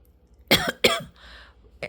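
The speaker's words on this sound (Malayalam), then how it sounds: "ചുമയുണ്ട് സോറി" Two sharp close coughs in quick succession, followed by a quieter breathy sound and a final short cough.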